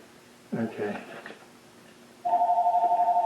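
A telephone rings near a speaker's workbench, a steady warbling electronic ring that follows a brief burst of someone talking.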